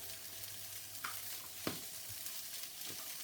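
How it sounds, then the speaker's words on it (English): Cherry tomatoes and bacon frying in a pan give a quiet, steady sizzle, with a few brief sharp pops and clinks standing out. "just fry those until the skins start to soften and wrinkle"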